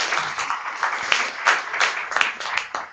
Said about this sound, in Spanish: capaz que lo aplaudimos nuevamente porque realmente nos encantó